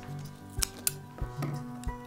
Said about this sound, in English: So we can snip those bits off